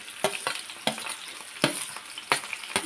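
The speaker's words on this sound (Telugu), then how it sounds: "ఉల్లిపాయలు వేసుకొని కొంచెం ఉప్పు వేసుకొని" Onions frying in oil with a little salt, a close, steady sizzle punctuated by about five sharp spatula scrapes as they are stirred, with no speech.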